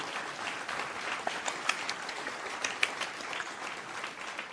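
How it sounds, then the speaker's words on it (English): A crowd applauds steadily for a few seconds, dense clapping at an even level with a few sharper claps standing out. "Let me give you a round of applause because you did outstanding"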